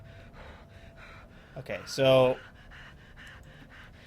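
A short burst of heavy, panting breaths from a soldier in the strategy game XCOM 2, rising to a loud gasp midway through, with someone briefly talking over it.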